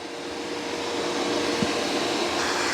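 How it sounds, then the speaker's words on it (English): A robot vacuum cleaner runs in a testing area with a steady, loud broadband whoosh and whir that holds evenly throughout, with no voices over it. "This is where we test robot vacuum cleaners to failure."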